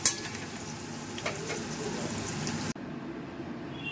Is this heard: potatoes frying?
yes